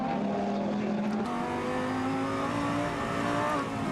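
Onboard in Laurens Vanthoor's GT race car at Nogaro, the engine howls loud and close, its pitch stepping up through a gear change and then holding at steady high revs, with no voices over it.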